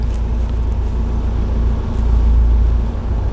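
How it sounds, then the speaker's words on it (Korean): A car engine idles and revs during a driving licence test, the vehicle having a transmission problem and stalling; a steady low rumble with a broad hum that swells slightly toward the end, no talk over it. "다시 엑셀 밟으세요"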